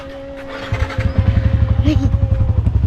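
Motorcycle engine running near the listener, rising from a low idle into a steady, pulsing throb with rhythmic firing; a faint tonal hum holds behind it and brief voices pass in the background.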